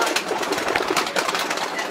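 Racing pigeons in a breeder's loft, a steady bed of fluttering, rustling and soft cooing from many birds at close range, with no clear talk over it.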